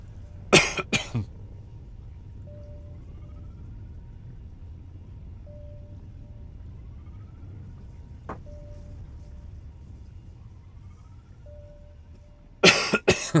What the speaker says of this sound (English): Coughing fit coming again.